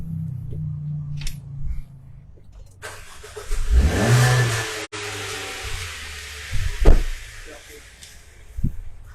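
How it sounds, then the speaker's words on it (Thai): A 2020 MG ZS 1.5 X Plus petrol engine cranks and starts, briefly revs, then settles into idle close to the microphone, with someone talking before and after the start. "เครื่องฟิตสตาร์ติดง่ายนะครับ"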